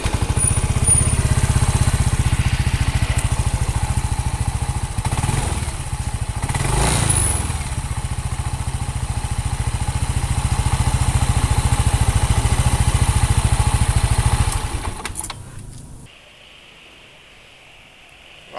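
A motorcycle engine idles with an irregular clattering, knocking valve noise after an engine oil change, running steadily at close range for about fifteen seconds before cutting off into near silence.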